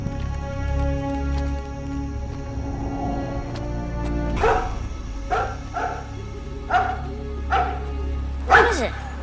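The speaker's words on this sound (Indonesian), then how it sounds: "anjingnya yang bernama Hawking menggonggong dan pergi ke hutan di belakang rumahnya" A dog barks several times in a film scene, sharp separate barks coming in quick succession over a steady low musical score, fairly close and moderately loud.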